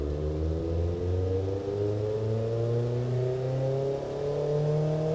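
A rough, loud engine from the Automation car-building game, an inline four built with 12:1 compression, revs continuously with its pitch climbing steadily, harmonics rising through the whole stretch without a break.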